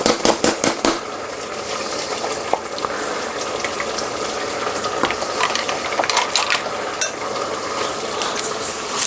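A pot of beans cooking down toward a syrupy state is shaken on the stove, giving a run of rattling, scraping metallic clatter, densest at the start, over a steady bubbling simmer with no talk.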